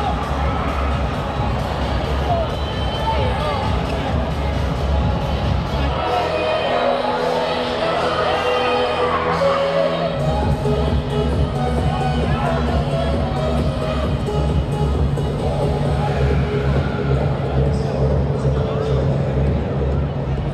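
A packed crowd mills about at Halloween Horror Nights Singapore 2024, with a constant loud hubbub of chatter, occasional shouts and a low rumble running under it throughout.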